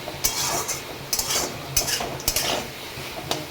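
A spoon stirs cooked food in a pan, with repeated close scraping and clinking strokes in an uneven rhythm over a soft background sizzle.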